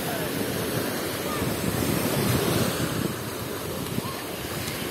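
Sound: Black Sea waves at Veselovka beach

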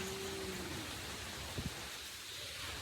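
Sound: rain falling

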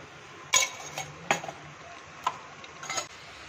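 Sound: spoonfuls of desi ghee added to bottle gourd halwa pan

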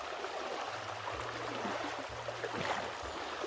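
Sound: mountain river stream flowing

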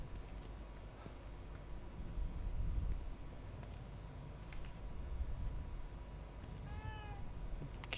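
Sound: cat meowing in The Evil Within 2 video game

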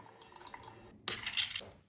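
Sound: tap water slowly filling a balloon

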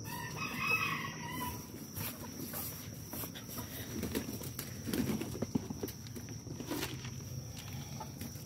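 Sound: chickens in a chicken pen

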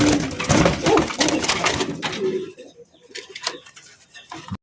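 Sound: pigeons cooing, rasgolla fancy pigeons

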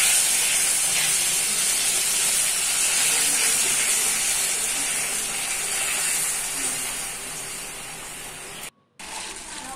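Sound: garlic sautéed in oil, quenched with vinegar, sizzling

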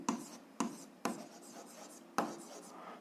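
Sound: writing out a solution

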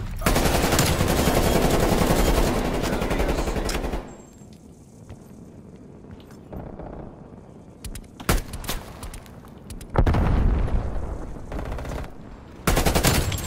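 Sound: frag grenade kill in video game Call of Duty Cold War

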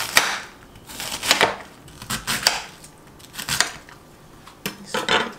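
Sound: knife cutting half a cabbage

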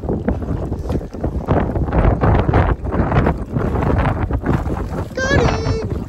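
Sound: strong wind while fly fishing from a boat

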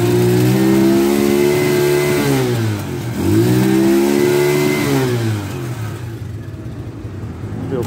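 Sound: Avelloz AZ1 50cc motorbike engine revving

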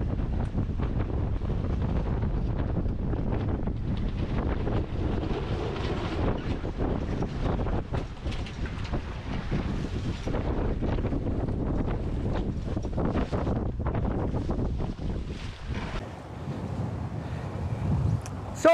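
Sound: sailboat sailing close hauled in wind

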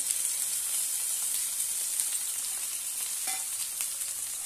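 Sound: halved tomatoes cooking in a pan

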